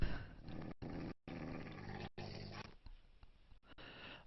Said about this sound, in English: That's a dangerous dog there, though. This is a very dangerous dog you have.